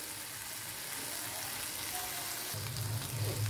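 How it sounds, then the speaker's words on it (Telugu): Dried shrimp fry in a pan with a soft, steady sizzle that stays faint and continuous, joined near the end by a slightly louder, lower frying burst. No one speaks. "ఇది కొంచెం బాగా వేగాలి."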